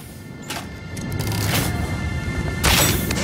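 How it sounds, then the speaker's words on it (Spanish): Projectiles rain down in the Satisfactory video game, a sustained rushing barrage with broadband bursts near the start and a louder surge near the end, fairly loud and without speech. "Están lloviendo balas o varillas."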